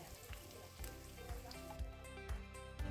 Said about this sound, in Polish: Smażymy powoli, aby racuchy miały czas na usmażenie się w środku.